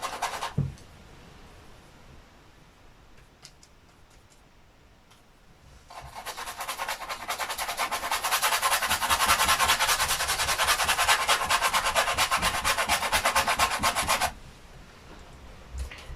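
A paintbrush rubs back and forth across a coarse, primed painting board for a long continuous stretch of dense, close scratchy strokes, framed by quieter moments of lighter brushing before and after, with no talking.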